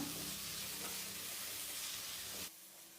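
Chopped tomatoes with spice powders sautéing in a pan for chicken roast, a steady close sizzling hiss that drops off abruptly near the end.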